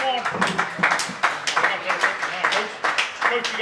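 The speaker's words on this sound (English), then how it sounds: "Everybody, big round of applause, Gage Warner." A crowd claps for Gage Warner at a high school Panthers coach's show, with quick, loud bursts of applause mixed with voices calling out over the clapping.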